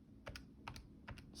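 Quiet typing on a computer keyboard during a math lecture, a few soft clustered key taps in irregular pairs, faint and close with no talking.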